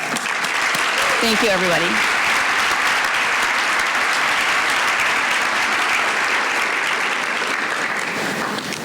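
A crowd at an awards event honoring forty-under-forty honorees claps loudly and continuously throughout, while a voice speaks briefly over the opening seconds.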